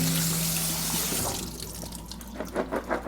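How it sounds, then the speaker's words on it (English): Running tap water pours steadily over canned chickpeas draining in a sink, a loud continuous rush that thins out toward the end into a few separate splashes and drips. "A 15-ounce can of chickpeas. We're going to drain and rinse them."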